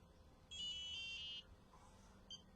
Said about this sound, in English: I am just going to pay some attention to this beeping noise behind me for a second.